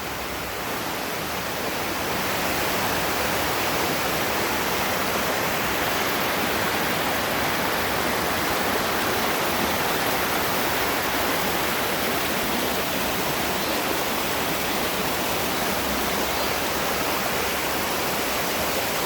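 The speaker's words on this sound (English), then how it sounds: "there's water running along the side there too" Water rushing down the rocks at Little Dunns River in Ocho Rios, Jamaica, a loud, steady cascading roar that fills the whole stretch without pause.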